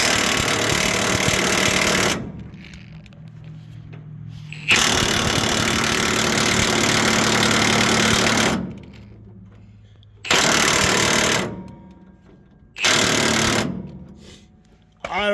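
Rapid mechanical hammering on a suspension bolt of a square-body crane truck, in several loud bursts of a few seconds each, separated by quieter stretches with a low idle hum.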